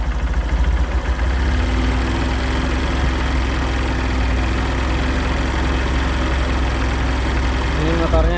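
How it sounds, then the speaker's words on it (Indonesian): Used second-hand motorcycle idling steadily at close range, with a low continuous engine rumble and gentle throttle blips near the end, no voices. "Gas pelan-pelan, pastikan untuk suara mesinnya ini tetap halus."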